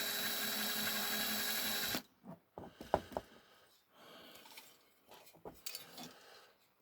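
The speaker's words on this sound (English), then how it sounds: "You don't want to drill down too far." A steady whirring drill bores out a wheel rivet post on a 1972 Matchbox K-15 Londoner toy bus for about two seconds, then stops, followed by scattered metallic clicks and taps of light work.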